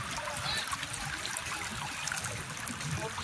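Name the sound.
strong river current flowing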